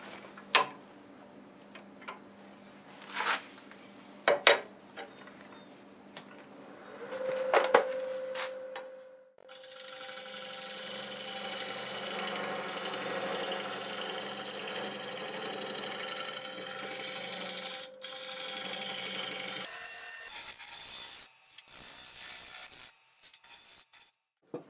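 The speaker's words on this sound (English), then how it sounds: "So I'm going to grab my negative break scraper and see if we can get it even smoother" A negative rake scraper smooths black oak on a wood lathe: ticking taps and brief rubs at first, then a long, steady scraping hiss with a faint hum of the spinning lathe, cut off by short pauses near the end.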